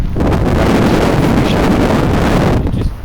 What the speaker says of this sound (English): Just a little bit too windy.